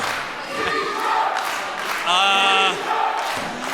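A wrestling arena crowd roars and cheers as the wrestler Z-Sharp works them up, a dense wash of voices with a sharp sustained shout rising above it midway, under ringside commentary.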